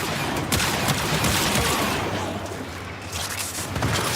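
Video game gunfire in a robotics-rogue shooter scene: dense, continuous bursts of shots and booms rolling together at a moderate level, with no clear talk over them.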